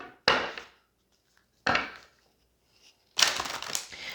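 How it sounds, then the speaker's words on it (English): A deck of cards being shuffled by hand, three short riffling bursts separated by brief silences, close and fairly quiet. "I do like to shuffle on camera as well"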